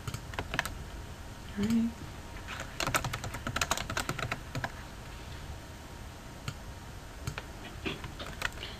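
Keyboard shortcuts tapped on a computer keyboard give clusters of quick, crisp key clicks with pauses between bursts, close and moderately loud, with a brief spoken word early on.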